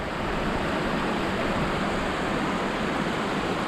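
A Scottish mountain stream tumbles downhill, a steady, close, full-bodied rush of fresh water with constant hiss and no breaks, heard alone without voices.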